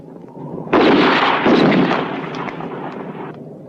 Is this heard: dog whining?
no